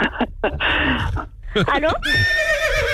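A horse whinnies loudly in several rising and falling neighs, close and clear, mixed in with someone speaking French over a phone-like line during a radio morning show.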